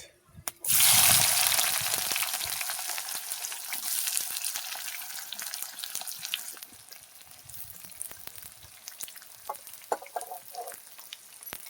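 Onions hit hot oil in a pan while chicken kosha is being cooked, bursting into a loud hiss that settles into a steady crackling sizzle, with faint clinks near the end.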